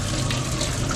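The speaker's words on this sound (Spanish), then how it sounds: "el grifo que no tiene difusor está consumiendo o descargando más cantidad de agua que el grifo que le hemos puesto el difusor" Water streams steadily from two taps, one fitted with an aerator and one without, a dense continuous splashing and rushing close by with no talk.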